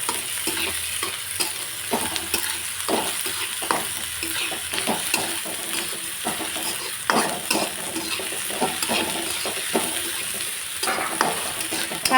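Onion frying in a pan for a spring onion greens stir-fry gives a steady, close sizzle throughout, with frequent scraping and tapping of a spatula stirring it.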